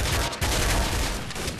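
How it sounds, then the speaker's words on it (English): Sustained automatic gunfire in Counter-Strike Zombie Escape, several weapons shooting at a machine at once in a dense, steady roar of overlapping shots with a couple of brief dips, no voices. "One guy shoots the machine."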